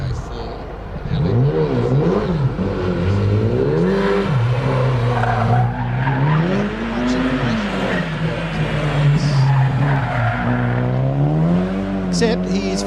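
Audi A4 race car at a lakeside hillclimb, engine revving hard and rising and falling through gear changes with tire squeal and skidding, loud and continuous under a commentator's voice.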